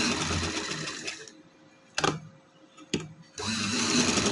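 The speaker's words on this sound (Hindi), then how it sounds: "इस तरह मैंने सिलाई लगा रही हूँ इन पे" A sewing machine stitches trouser pieces in two loud, steady whirring runs at the start and end, separated by a quiet gap with a couple of sharp mechanical clacks.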